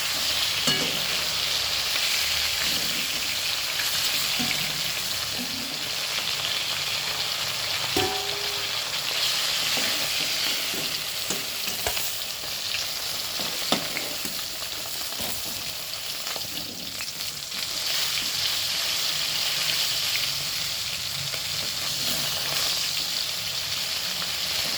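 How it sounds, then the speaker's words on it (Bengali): Fish frying in hot oil gives a steady, close sizzle that runs throughout, with a few light clinks and taps of a utensil in the pan. "মাছগুলো প্রথমে খুব ভালো করে আমি ভেজে নেব"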